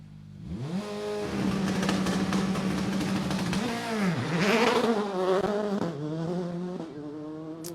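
Rally car engine at the start of a narrow, bumpy special stage at the Rallye du Var, revving up with rising and falling pitch sweeps, fairly close and loud, alone without talk.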